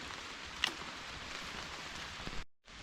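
Steady rain falls with a soft, even hiss and a few louder drops, then cuts out briefly near the end.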